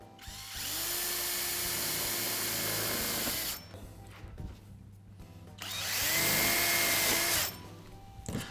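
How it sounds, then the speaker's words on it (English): A power drill drives screws to fasten a gutter outlet at the cut end of a roof gutter, two sustained whirring bursts of about three and two seconds separated by a quieter pause, close and steady. "Then I place the outlet at the cut end and fasten it with screws."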